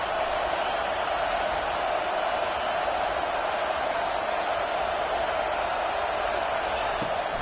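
A stadium crowd roars on third down at a football game, a dense, steady wall of cheering noise that holds at one loud level throughout.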